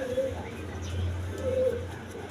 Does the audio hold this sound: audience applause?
no